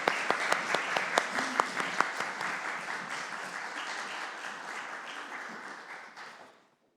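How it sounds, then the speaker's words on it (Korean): A church congregation applauds in a large worship hall, a dense burst of clapping with sharp individual claps at the start that settles into a steady roll and fades out over several seconds. "하나님께 영광의 박수 올려드리겠습니다."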